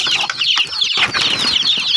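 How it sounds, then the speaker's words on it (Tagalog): Many chickens cluck and squawk close by in a busy flock, their overlapping high-pitched calls filling the air almost continuously with brief gaps. "Ito, grabe mga manok dito. Ang dami guys, oh. Ang daming manok."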